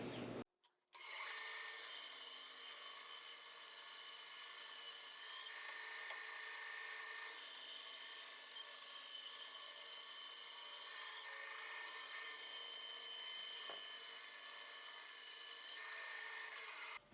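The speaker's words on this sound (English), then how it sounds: "go ahead and sand off this varnish, so the wood will take the resin" A power sander strips varnish from a walnut gunstock, giving a steady, close, abrasive whir that runs continuously after a brief start, with no speech.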